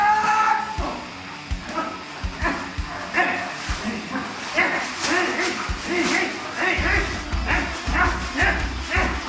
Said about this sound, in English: That's a good dog.